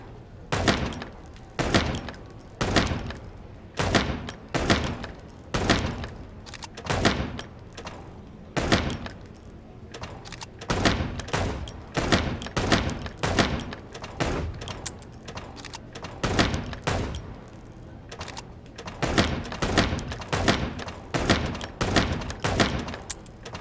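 Gunfire in the noir detective game Chicken Police, sharp single shots fired in a steady uneven series over about twenty seconds, loud and close with short gaps between groups of shots.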